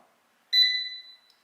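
A Xiaomi Mijia Onemoon air fryer gives a single bright electronic beep as it powers on, clear and close, fading over about half a second in an otherwise quiet room.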